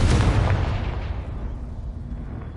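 In Hogwarts Legacy, a Confringo blasting spell detonates with a loud, booming explosion at the start. A broad rumble follows and slowly fades away over a couple of seconds.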